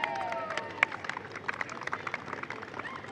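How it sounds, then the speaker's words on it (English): Cricket teammates clap for the player of the series at an outdoor awards presentation, a steady patter of hand claps at moderate distance that peaks with one sharp clap and then continues at an even level. "Gets a loud applause from her teammates"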